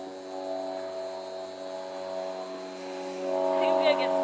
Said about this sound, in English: And an airplane in the background. More specifically, a seaplane.